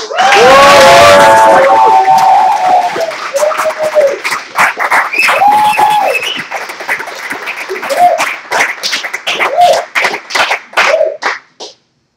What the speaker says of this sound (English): please give a warm round of applause for the 2011 Poets Asylum Slam